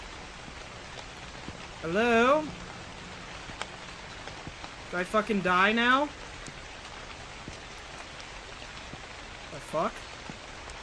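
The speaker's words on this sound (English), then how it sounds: "Jesus, the rain scared me too." Steady rain hisses throughout a convenience store horror video game, with a voice breaking in over it in two or three short bursts.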